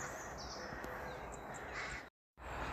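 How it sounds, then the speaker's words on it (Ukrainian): Crows caw from a nesting site in bare trees on a walk in Ireland, their calls fairly faint and distant over steady outdoor background noise, with a brief dropout near the end. "Ворони там гніздяться он."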